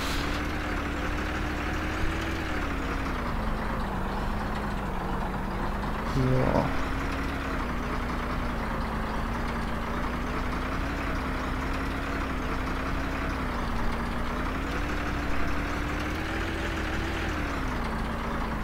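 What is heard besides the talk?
truck driving bumpily along a beach in Operation Flashpoint video game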